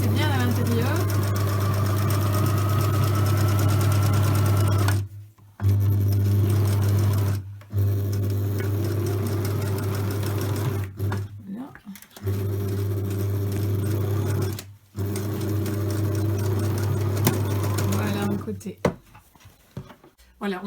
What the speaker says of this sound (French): Il faut veiller évidemment à ne pas coudre sur l'élastique, il doit rester bien à l'intérieur.